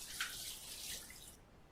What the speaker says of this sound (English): Sound here for water flowing.